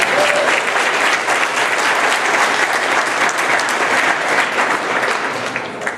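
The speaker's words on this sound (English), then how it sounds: "Give them a round of applause." Loud, dense applause from a crowd at a Chanukah celebration on Beacon Hill, sustained and even for several seconds before easing off slightly at the close.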